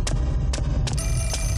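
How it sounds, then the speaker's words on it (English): A telephone rings inside the horror video game Fatal Frame IV: Mask of the Lunar Eclipse, giving repeated bright electronic trills over a steady low droning game ambience, with no talk. "The bloody phone again?"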